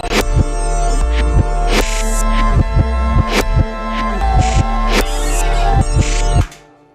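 A drum kit runs through a heavy audio effect in Studio One, its kicks and hits pulsing in a steady, loud rhythm with a smeared, droning tone before cutting off abruptly.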